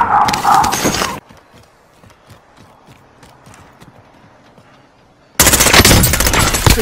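Rapid gunfire in a battle within Warzone gameplay, loud dense bursts at the start and end with a quieter stretch of faint distant shots and thuds between.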